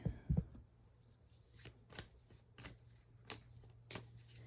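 Tarot cards being shuffled, a series of quiet riffling bursts repeating roughly every half second to second, close and faint.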